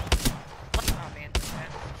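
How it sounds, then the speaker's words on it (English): Apex Legends gunfire comes in three short, evenly spaced bursts of two or three sharp shots each, punchy and close. "Bunker's shooting at me."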